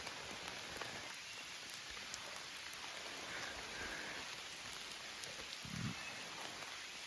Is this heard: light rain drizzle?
yes